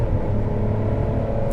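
A Ferrari 599 GTB engine drones loud and close under hard acceleration, a steady deep rumble with no clear break for a gear change in this short stretch.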